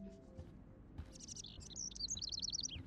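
A bird in the video game Life is Strange chirps in quick repeated tweets, a few faint calls at first and then a rapid bright trill, close over a low background hum.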